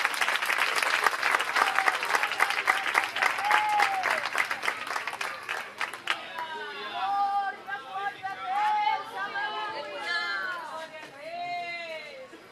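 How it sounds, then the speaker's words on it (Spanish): A church congregation gives the Lord loud, sustained applause during a service, dense clapping that fills the room for about six seconds and then gives way to a preacher speaking and more scattered clapping. "salva de palmas para o Senhor Jesus Cristo"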